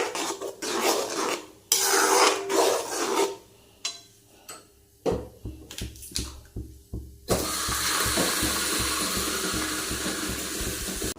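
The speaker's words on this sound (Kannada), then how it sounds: "ಗ್ರೈಂಡ್ ಮಾಡಿಟ್ಟ ಮಸಾಲ ಇದು ಚೆನ್ನಾಗಿ ಫ್ರೈ ಆಗಬೇಕು, ಹಸಿ ವಾಸನೆ ಹೋಗುವವರೆಗೆ" Ground masala for a palak mushroom coconut milk pulao fries in a pan, with rough scraping stirs in short bursts giving way to a steady, close sizzle.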